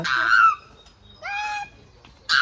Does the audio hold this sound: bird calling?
yes